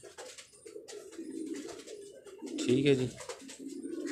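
Pigeons kept on a rooftop loft coo in a low, throaty run that swells near the middle, close by amid general ambient rumble, with a brief spoken remark.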